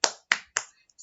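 Three sharp, evenly spaced claps from a class cheer in a primary-school lesson, crisp and close with quick decays and silence between, in a short rhythmic burst.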